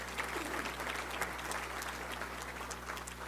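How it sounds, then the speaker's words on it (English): Steady applause from a crowd at a Little Rock Touchdown Club luncheon in a hotel, continuous dense clapping at moderate loudness throughout. "So let's give a round of applause for Nan Trammell for sponsoring that."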